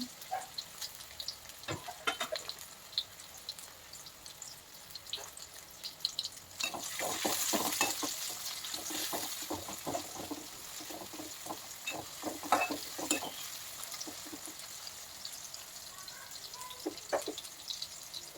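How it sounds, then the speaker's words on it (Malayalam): Sliced onions frying in coconut oil in a pan make a continuous sizzle that swells louder midway, broken by stirring scrapes and crackles, close and clear with no talking. "മൂന്ന് ടീസ്പൂൺ വെളിച്ചെണ്ണ ഒഴിച്ച് സബോള നമ്മൾ കട്ട് ചെയ്ത് വെച്ചിട്ടുള്ളത് നമുക്കത് ഒഴിച്ചു കൊടുക്കാം"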